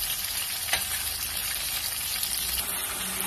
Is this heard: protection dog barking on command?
no